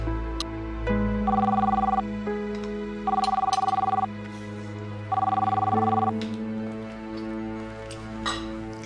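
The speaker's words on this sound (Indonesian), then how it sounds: "Telepon, Pak." A telephone rings in three even bursts of about a second each, spaced two seconds apart, clear and close over a quiet room.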